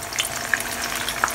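Flour-coated tofu frying in a non-stick pan, a steady close hiss of oil with small pops and crackles scattered throughout.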